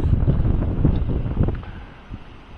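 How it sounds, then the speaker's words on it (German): Light wind at the beach in Maspalomas, Gran Canaria buffets a microphone in low rumbling gusts, strongest at first and easing off toward the end. "Wir haben leichten Wind."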